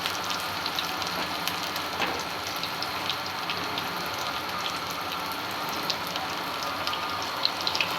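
Small food pieces fry in very hot oil, giving a steady, loud sizzling hiss with scattered crackles and pops and no talking.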